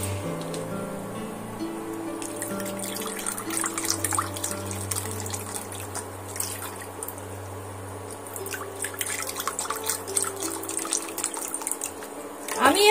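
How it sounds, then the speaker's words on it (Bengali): Water is poured bowl by bowl into a wok (karai) while rasmalai is being made, producing continuous splashing and dripping over a low hum, with a louder splash at the very end. "কড়া বসিয়ে আমি এই বাটি মেপে পানি দেব"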